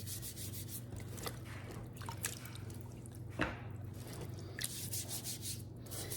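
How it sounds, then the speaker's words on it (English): A small vegetable brush scrubs fresh rhubarb stalks, giving a steady bristly rubbing with faint wet dripping sounds, close and fairly quiet throughout, with a low hum underneath. "I actually have a little vegetable brush that I use, and I just get it nice and clean"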